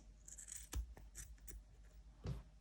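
A few crisp snips of scissors trimming chunky crochet yarn close by, short sharp cuts spaced irregularly in a quiet room.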